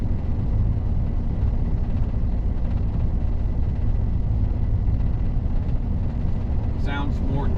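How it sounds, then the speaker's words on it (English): A 2002 Dodge 2500 pickup's 8.0L V10 engine idles with a deep, steady, diesel-like rumble throughout, loud and close, with a brief higher whine near the end. "And the truck sounds awesome."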